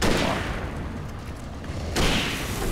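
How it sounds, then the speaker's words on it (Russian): Rifle shots in the Alan Wake video game, with loud broadband blasts at the start and again near the end over continuous game noise, with no talk. "на него понадобилось аж два выстрела из винтовки"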